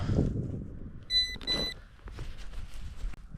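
Two short electronic beep tones from a metal detector sound in quick succession over low rumbling and rustling outdoor noise, fairly faint.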